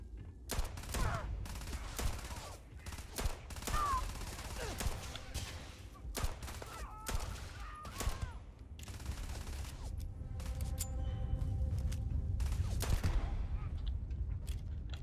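Video game gunshots ring out in sharp, scattered bursts, some close and loud, others quicker in rapid volleys, over a steady game soundscape with faint talk at times.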